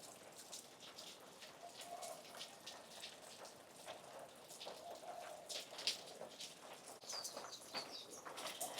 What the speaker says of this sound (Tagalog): Raining in Hawaii.